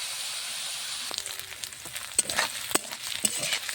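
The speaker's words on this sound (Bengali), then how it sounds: "তেলটা খুব সুন্দর গরম হয়েছে, টকবক করে ফুটছে।" Hot oil bubbles and crackles around fish frying in a pan. A steady close sizzle is joined partway by sharp pops and spits.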